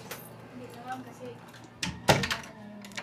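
A heavy, solid wooden front door of a house in San Felipe, Zambales is handled, giving a couple of sharp knocks and thuds near the end under quiet talk and light rustling.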